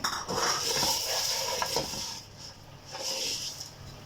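Green chillies and black peppercorns are dry-roasted in a pan for garam masala, giving a close, steady crackling sizzle and scraping stir that dips slightly midway and then rises again.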